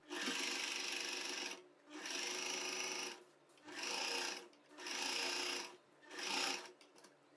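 A domestic sewing machine stitches a side pocket on a churidar or kurti, running in five steady bursts of rapid mechanical whirring separated by short pauses, close and clear.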